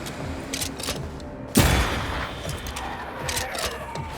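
A corpse enemy in Banishers: Ghosts of New Eden fires a single loud, sharp gunshot that cuts through steady game ambience, then fades into a lingering tail.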